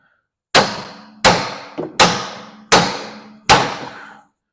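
A bolt being hammered into a Dodge Magnum's front suspension during a DIY rebuild, five loud, ringing metallic strikes spaced evenly at close range, with a lighter tap between the second and third.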